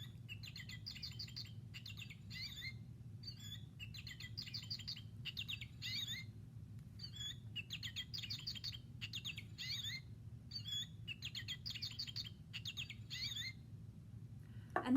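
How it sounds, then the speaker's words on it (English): A goldfinch sings a long series of bright twittering, warbling phrases with short pauses between them, clear and fairly close over a low steady rumble. "Let's listen to our goldfinch."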